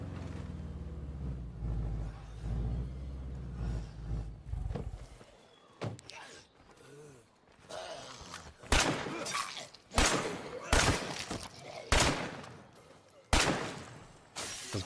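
Gunfire in the video game LEGO Horizon Adventures, with a series of sharp, loud shots and bursts spaced irregularly through the second half and a low rumbling background early on.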